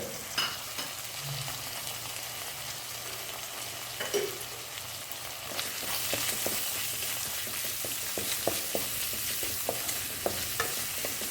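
Crushed garlic, green chili, curry leaves and chopped shallots sizzle in coconut oil in a pan, a soft steady frying hiss broken by scraping stirs and spatula clicks that grow louder in the second half.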